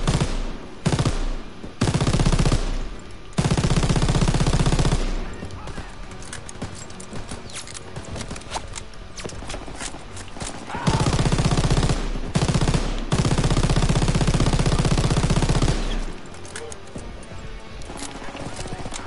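Machine gun fire in Call of Duty WW2 on Veteran mode: loud sustained bursts of automatic fire alternating with brief pauses and scattered single shots, with faint battle noise between.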